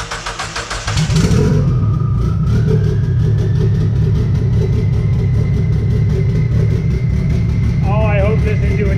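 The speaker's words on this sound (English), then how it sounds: "So this is the first start since complete engine rebuild." A rebuilt SRT-4 engine in a Dodge Neon cranks with rapid pulsing turns on its first start, then catches and settles into a loud, steady running rumble nearby.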